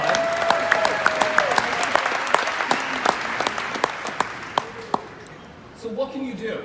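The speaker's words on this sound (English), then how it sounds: "Now you can applaud." Conference audience at a real estate brokerage convention breaks into steady applause, a dense clapping wash with a few sharper claps standing out, tapering off near the end as a voice returns.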